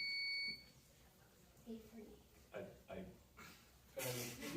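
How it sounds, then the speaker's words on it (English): A short electronic buzzer tone sounds during a buzzer check at a Certamen quiz competition, then brief voices speak in bursts before another loud burst of sound at the end. "Let's do a buzzer check. All the ones buzz in."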